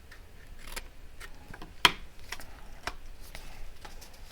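Scissors cut cardstock for a shutter card in a quiet room, making a few faint crisp snips and slicing sounds, with one sharper close click standing out.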